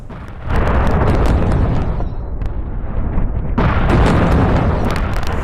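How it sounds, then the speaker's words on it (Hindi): Missile strike in a residential area of central Israel: a sudden loud, sustained roaring blast that stays dense and rumbling for several seconds, dipping briefly before surging again, heard alone with no talk. "सेंट्रल इजराइल में यह मिसाइल अटैक हुआ और रिहायशी इलाके में आकर यह मिसाइल गिरी।"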